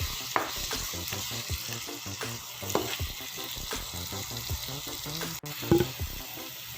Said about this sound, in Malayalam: ഇനി ഇവ നന്നായിട്ടൊന്ന് മിക്സ് ചെയ്തെടുക്കാം നമുക്ക്.